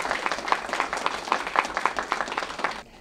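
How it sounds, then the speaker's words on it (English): A short burst of clapping at a school district board meeting, fairly close and distinct with individual claps audible, fading out quickly after about three seconds. "a big round of applause for these kids"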